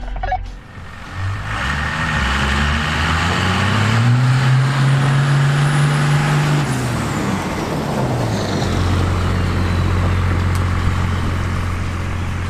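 A Toyota Tacoma races a Dodge Cummins truck. Loud engines rise and fall through shifts before settling into a steady droning run.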